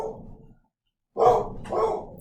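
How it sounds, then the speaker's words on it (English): Dogs bark outdoors: a muffled bark, a pause, then two more woofs, moderately loud and somewhat distant. "I had to stop my dogs from yelling outside"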